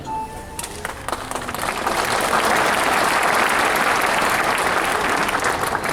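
Audience applause at an RCM training and celebration program in Patna, building from scattered claps into dense, sustained clapping from a large crowd that fills the hall for several seconds.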